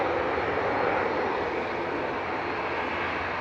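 An ATR 72 turboprop departing Manchester Airport, a steady, loud engine roar with a broad rushing tone that holds throughout, no voices.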